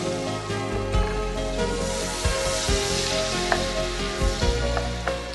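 Onions and mustard seeds sizzle in hot oil for an aubergine dish, a steady crackling fry with a few soft stirring knocks throughout, close and with no talking.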